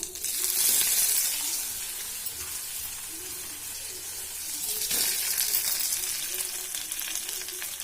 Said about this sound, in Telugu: మనం దంచుకున్న నిమ్మకాయ చట్నీ అంతా ఇందులో వేసేసిన కదా పోపులో అయితే మంచిగా కలిపేసుకోవాలి